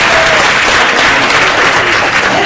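Loud, dense clapping from a rowdy town hall crowd runs continuously at close range, the sound thick and unbroken from start to finish, with no one speaking over it.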